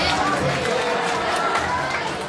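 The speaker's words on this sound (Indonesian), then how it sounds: "Boleh tepuk tangan untuk Mr. Ade." A crowd at a judged event claps and cheers for a judge as he is introduced, a loud, continuous wash of applause mixed with chatter and voices from the audience.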